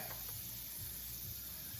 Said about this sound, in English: here we go with the shallots. You heard them sizzle.